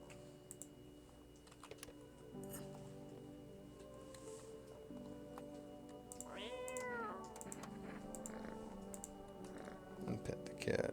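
A cat meows in a video game, a short rising-and-falling call near the middle, heard over steady game music and keyboard tapping.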